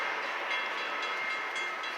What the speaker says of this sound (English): Sounds like a train coming by or something.